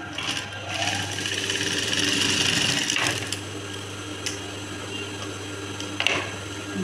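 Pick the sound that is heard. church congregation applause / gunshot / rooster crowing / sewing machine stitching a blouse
sewing machine stitching a blouse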